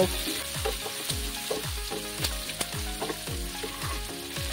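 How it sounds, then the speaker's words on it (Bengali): Onions with a pinch of salt sizzle steadily while frying in oil for a Bengali puti fish curry, with repeated rhythmic stirring scrapes roughly every half second, close and moderately loud, no talking. "পেঁয়াজগুলো একটু লাল লাল করে ভেজে নেব।"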